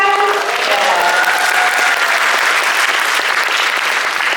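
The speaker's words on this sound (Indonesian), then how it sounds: "ya silakan tepuk tangan" Loud, sustained audience applause at an Islamic student festival in Jakarta, dense clapping filling the hall from start to finish, with a brief voice trailing off at the very beginning.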